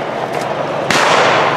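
A single sharp shotgun blast at a sporting clays range cracks out loud and close after a brief quiet lead-in, its boom ringing out and decaying over the following moments.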